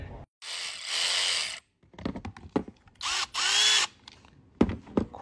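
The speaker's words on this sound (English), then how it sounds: "New Dewalt ratchet." New DeWalt power ratchet with a fuel head, running in several loud bursts of high whirring, separated by short pauses and clicks, close up with no talk.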